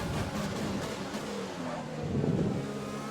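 An F1 car in the F1 2020 racing game overtakes during a career race, a brief lock-up of the wheels included, with engine whine rising and shifting in pitch over about three seconds.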